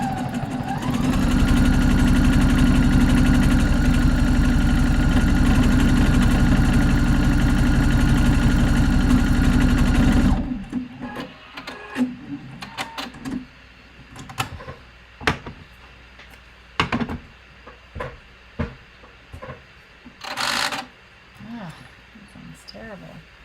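A home sewing machine runs steadily and loudly for about ten seconds while stitching a buttonhole, then stops abruptly, leaving scattered clicks and small handling knocks.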